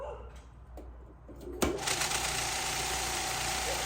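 After a quiet start with faint sounds, a vibratory rock tumbler with its lid on switches on with a sharp click and settles into a steady, loud buzzing hum.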